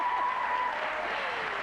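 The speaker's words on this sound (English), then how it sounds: "Give her a big round of applause." Studio audience applause on a late-1990s BBC One game show, a dense steady wash of many hands clapping at even loudness throughout, with a faint sustained tone sliding downward beneath it.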